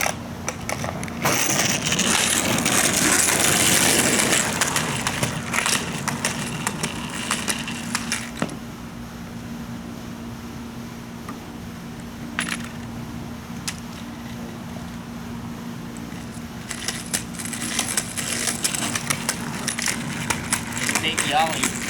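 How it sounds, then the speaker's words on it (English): A skateboard rolls continuously with a gritty wheel roar, broken by a few sharp board clacks as a fakie ollie is attempted, with some voice in the background. "Fakie ollie."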